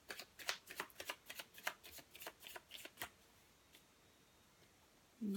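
A deck of tarot cards shuffled close up in a quick run of crisp riffling flicks for about three seconds, then quiet, with a brief thud at the end.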